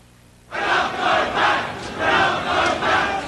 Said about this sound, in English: It was an angry crowd of striking miners that demonstrated against their union's vote